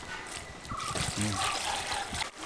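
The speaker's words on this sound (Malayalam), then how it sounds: "ഇനി ലേശം വെള്ളം ചേർക്കാം" Water trickles and pours into a cement and sand mix for a couple of seconds, a close, steady liquid stream with a faint voice nearby.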